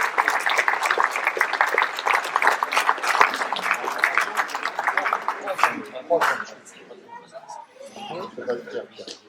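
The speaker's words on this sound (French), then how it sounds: "Allez, vous pouvez l'applaudir, il est champion de France" Applause in a hall honouring Malo, a French judo champion in the under-64 kg class, at a local sports and volunteer ceremony in Ploërmel; sustained dense clapping for about six seconds, then fading into quieter scattered claps and voices.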